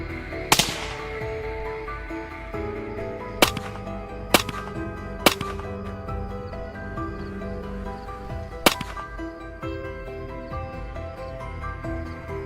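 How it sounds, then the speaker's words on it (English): Sharp gunshots crack out during a nighttime wild boar hunt, five distinct reports spaced irregularly over a steady low background hum, loud and fairly close with no talking. "Gunfire continued to ring out steadily in the quiet space of the night"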